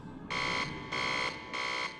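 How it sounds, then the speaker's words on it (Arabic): Mine gas warning alarm sounding in three evenly spaced, loud electronic buzzing blasts with short gaps between them, alone without voices. "إنه إنذار بوجود غاز المناجم"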